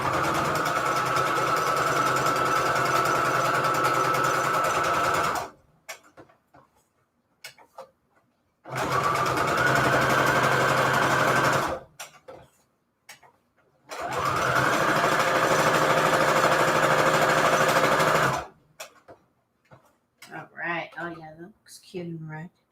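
Sewing machine running straight stitches through paper strips for Christmas index journal cards, three sustained loud bursts of steady whirring separated by pauses with small handling noises.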